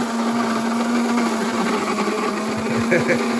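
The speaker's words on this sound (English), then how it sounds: "So make sure you grind coffee the night before the hurricane." An electric coffee grinder runs on inverter power during a hurricane outage, a loud steady motor whine with a constant hum, close by, while a voice talks over it.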